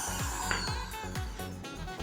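A DCA AZJ16 impact drill bores into mahogany with a 19 mm auger bit, giving a loud, steady whir that pulses in a regular cycle about every half second for the whole stretch.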